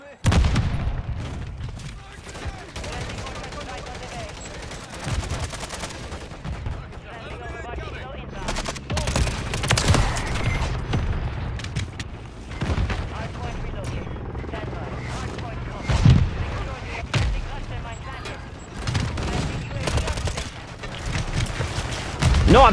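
Call of Duty gunfire crackles in irregular bursts amid helicopter rotor drone and heavier booms, a busy battlefield mix with shots spiking louder now and then.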